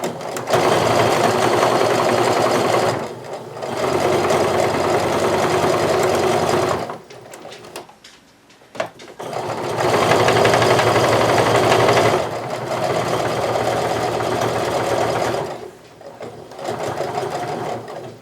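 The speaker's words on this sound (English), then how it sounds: "for now, just sew until you're about 1 inch or so away from the edge using a basting stitch" A sewing machine runs a long basting stitch on sweater fabric, its rapid steady whir coming in long runs close by, broken by short pauses.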